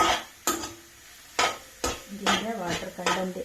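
A spoon scraping and clanking in a pan as soya chunks are stirred and fried for a curry, with sharp separate strikes followed by soft sizzling and stirring.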